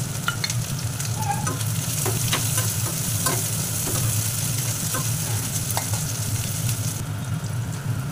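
Chopped onion sizzles in a hot pan of ginger-garlic paste for a jackfruit curry, a steady close frying hiss broken by scattered crackles and scrapes of stirring.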